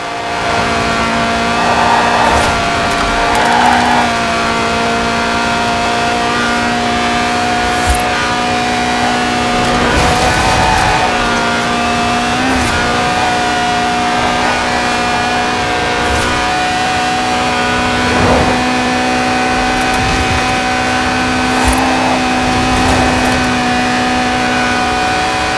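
A Lotus sports car's 190-horsepower 1.8-litre engine, revving to 8,000 RPM in Forza Horizon 4, drones and revs steadily, its pitch rising and falling over a sustained stretch, with occasional gear-change bursts.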